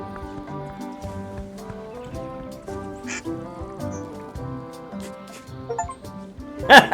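A duck quacks in Return to Monkey Island over layered game music, with a short, louder burst near the end.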